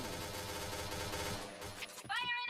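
Gunfire in the first-person shooter Point Blank during a competitive esports semi-final match, dense overlapping game effects and rapid shots filling the first half, then a brief gap and a shriller burst of game sound near the end.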